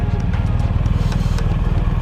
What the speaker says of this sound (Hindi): सुबह सुबह एंट्री होती है BMW 1250 एडवेंचर।